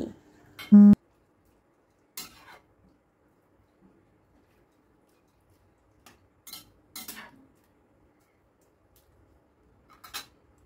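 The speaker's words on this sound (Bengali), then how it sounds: "একটু গরম জলটা দেওয়ার পর সব কিছু আবারও ভালো করে মিশিয়ে নিচ্ছি।" A spoon clinks and scrapes now and then in a pan of Bengali shrimp curry gravy thinned with hot water, leaving long quiet gaps between sparse, brief strokes.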